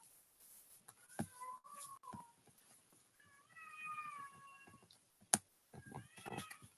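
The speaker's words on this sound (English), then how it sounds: "I'm sorry if you can hear my cat in the back meowing." A cat meows several times in the background of an online call, drawn-out tonal calls with pauses between, fairly close, alongside a few clicks and soft background noise.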